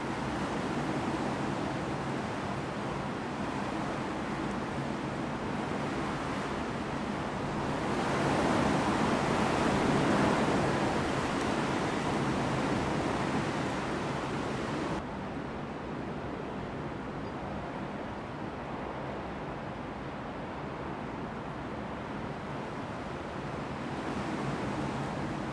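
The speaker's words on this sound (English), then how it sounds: "It's windy outside." Steady broadband wind roars outdoors, swelling louder in the middle then easing to a constant rushing hiss, with no voices.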